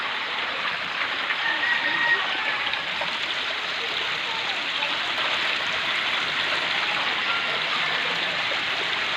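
Flowing water rushes steadily from a stream during a flood, a continuous hissing wash that stays loud and even throughout.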